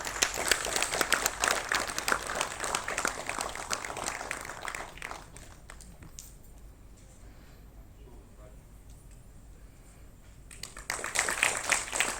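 Audience applause at an awards ceremony in Dehradun as a memento is presented to the Governor: dense clapping for about five seconds, tapering off into a quiet hall, then a fresh burst of applause rising near the end.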